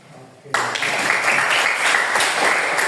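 Classroom applause for a student who has just finished speaking, breaking out abruptly and holding steady as a dense, fairly loud wash of clapping.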